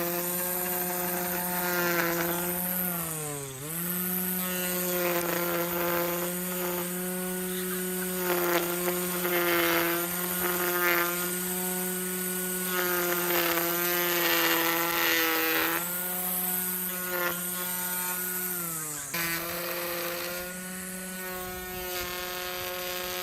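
A power trimmer cuts back overgrown plants in a front yard garden, its steady high motor whine running loud and continuous, dipping briefly twice as the blades bite into growth.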